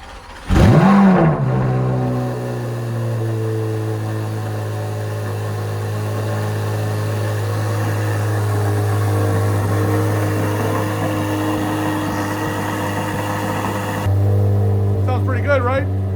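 A Chevrolet C8 Corvette Z06 cold-starts with a sudden loud exhaust flare in the first seconds, then settles into a steady, droning high idle that continues close and uninterrupted, with a brief lift in level near the end.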